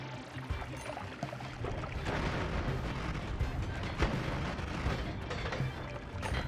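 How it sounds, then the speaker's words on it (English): A rapid barrage of dense, booming explosions and crackling blasts fills the Noita video game without pause, loud and chaotic, with low rumbles and sharp bursts overlapping for several seconds. "Things just exploding in front of my very eyes"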